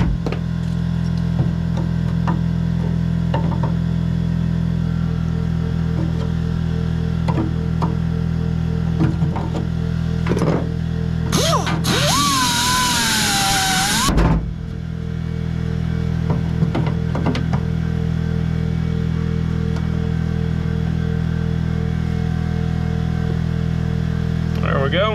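A Bauer grinder works a stone in the bed of a 2022 Ram 3500, giving a loud, harsh burst of about three seconds with a wavering whine, set against a steady low background hum.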